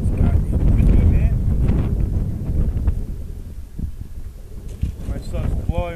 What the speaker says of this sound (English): It's gonna be dark, it's goddamn windy